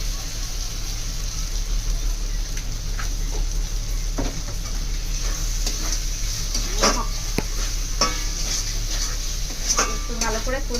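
Mutton with masala, tomato and cumin stirred and fried in a pan: steady loud sizzle under repeated scraping and clinking of a spoon against the metal pan, close up.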